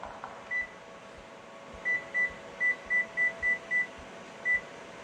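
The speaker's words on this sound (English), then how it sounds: "Turn the timer on 8." An oven timer sounds a series of short electronic beeps, about nine in total, with an uneven rhythm over a steady low hum, clear and nearby, while a keto chicken-crust pizza bakes.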